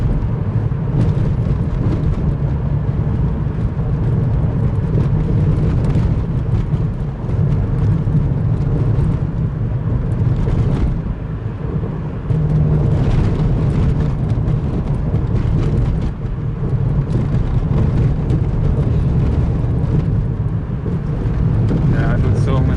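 Car driving at about 50 km/h across the ice crossing over the Lena between Yakutsk and Nizhny Bestyakh in winter, a steady low rumble of engine and tyres on ice filling the whole stretch, with someone talking over it.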